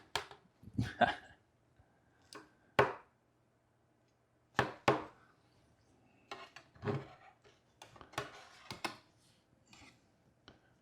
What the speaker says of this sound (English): Let's cut a little piece out.